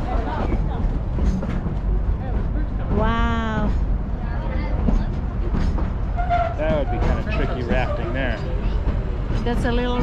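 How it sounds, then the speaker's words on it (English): A Durango & Silverton narrow gauge train in the Colorado mountains rolls along with rumbling clatter beneath steady background noise, while people talk excitedly and a loud harmonic whistle-like tone rises briefly near the middle. "Look at the train."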